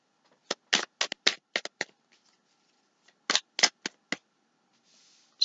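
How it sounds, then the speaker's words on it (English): Tarot cards shuffled by hand in two quick bursts of crisp riffling flutters, close and dry, with a short pause between them and near silence around. "I'm going to shuffle."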